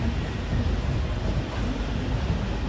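Jan Shatabdi Express train pulling into Mumbai CSMT station, a steady, loud, low rumble of rolling rail cars without breaks.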